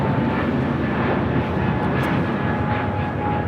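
An Airbus Neo airliner takes off from runway 25 right at LAX with a loud, steady engine roar that holds without a break, heard from nearby.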